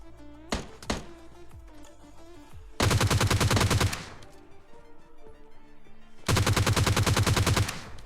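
Gunfire in the video game PUBG Lite: a few sharp single shots followed by two loud, sustained bursts of rapid automatic fire, with quieter game ambience in between.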